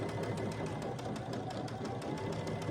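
A sewing machine runs steadily while stitching a quarter-inch seam on a quilt block, a continuous close mechanical whir with fast even needle pulses and no pauses.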